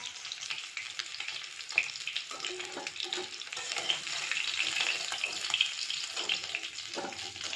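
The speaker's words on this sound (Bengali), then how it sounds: "এরকম করে মাছগুলো সব ভেজে নেবো" Continuous crackling sizzle of fish frying in oil, close by, with occasional stirring scrapes and spatter pops throughout.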